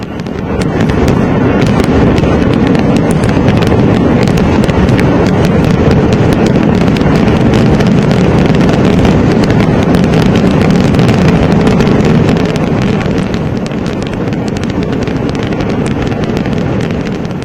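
A dense, nonstop barrage of Thrissur Pooram festival fireworks bangs and crackles in daylight, loud and close, for the whole stretch, with no voices.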